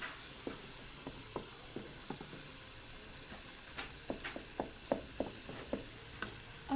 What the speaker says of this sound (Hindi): जी अदरक लहसुन को 1 से 2 मिनट भूनने के बाद मैंने इसमें ऐड कर दिए हैं टमाटर।